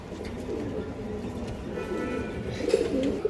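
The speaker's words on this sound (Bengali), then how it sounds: "একজোড়া সবুজ গলা কবুতর দেখেন মাশাআল্লাহ" A pair of green-necked pigeons at a breeder's loft cooing softly, low murmuring calls rising a little toward the end over quiet background noise.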